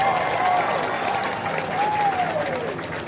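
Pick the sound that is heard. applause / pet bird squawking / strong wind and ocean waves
applause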